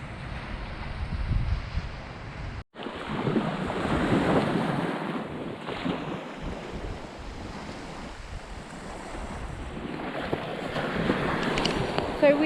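Surf breaking on an Arctic beach in winter, with wind buffeting the microphone, makes a steady broadband roar throughout, dipping briefly near the start, with a faint voice in the background.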